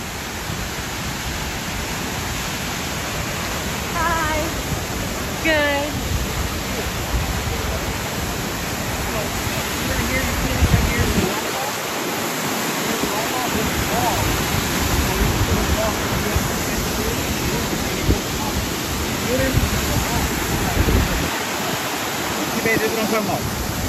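Kent Falls in Connecticut pours down rocks into a pool, a loud, steady broadband rush of water filling the whole stretch, with faint voices and brief chirps now and then beneath it.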